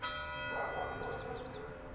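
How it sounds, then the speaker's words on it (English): Church clock bells ring faintly in the distance over a steady background hum near small farmhouses, a soft tolling that swells briefly and fades. "I hear the bells from the clock in the church"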